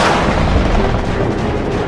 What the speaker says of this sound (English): Communist anti-aircraft fire rips through the sky.